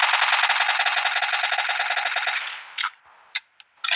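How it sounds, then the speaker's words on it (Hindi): Sustained rapid automatic gunfire in the mobile game PUBG Mobile, loud and continuous for over two seconds, then a few isolated sharp shots with brief gaps, no talk. "चलो जी अभी वो गोलियां चलाई बंदा है"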